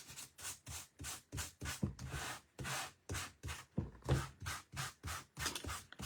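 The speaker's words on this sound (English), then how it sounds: "I am taking a sanding block and just" Rhythmic sanding block rubbing lightly across white-core two-tone cardstock, a steady series of scratchy strokes, close and fairly quiet, with no talking.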